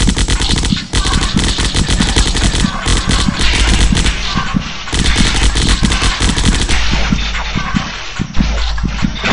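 Rapid automatic assault rifle fire from the zombie shooter game Zombocalypse, loud and nearly continuous bursts across the whole stretch with brief gaps, dense and close.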